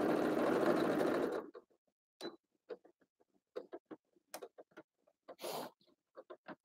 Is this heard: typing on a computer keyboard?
no